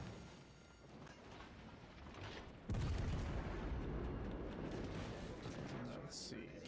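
Warship main guns firing high-explosive shells in a World of Warships Legends naval battle, a sudden heavy boom that swells into a sustained loud rumble of gunfire, with a voice talking over it.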